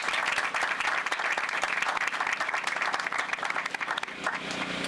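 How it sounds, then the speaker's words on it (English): An audience at a housing groundbreaking ceremony applauds loudly and continuously to welcome a state senator, a dense wash of clapping that thins slightly at the very end. "Please welcome her with your applause."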